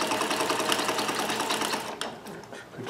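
A Necchi Supernova Ultra freearm sewing machine runs a straight stitch in a fast, steady, close-up whir, then slows and stops with a few clicks near the end.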